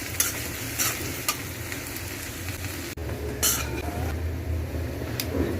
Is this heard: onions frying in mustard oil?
yes